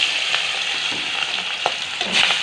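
Ritha fish frying in mustard oil in a pan for dopeyaja, a steady loud sizzle with crackling pops and occasional stirring clinks, close up and without talk.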